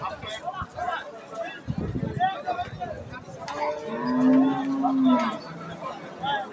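A large Friesian dairy cow at a cattle market gives one long, loud, drawn-out moo midway, with crowd noise and someone talking nearby before it.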